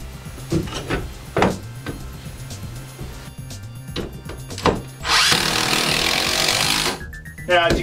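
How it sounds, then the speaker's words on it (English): A power drill whirs in a few short bursts between scattered knocks and handling noise, then runs in one longer, louder burst drilling a pilot hole in a wall before cutting off. "I'm going to drill a pilot hole."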